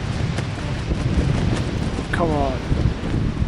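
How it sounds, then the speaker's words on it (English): Wind gusting across a foggy Alaskan hilltop during a multi-day adventure race, a steady broadband rush with a brief voice speaking over it. "A little windier up here."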